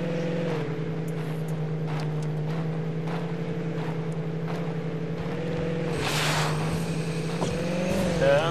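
A buggy in a driving video game revs its engine continuously while handbrake skids squeal briefly near the end; loud, steady motor drone.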